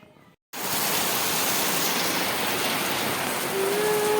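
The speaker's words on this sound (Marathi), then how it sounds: "एकदमच अचानकच पावसाला सुरुवात झाली" Heavy rain starts abruptly after a brief quiet moment, then pours steadily as a dense, loud hiss with no letup.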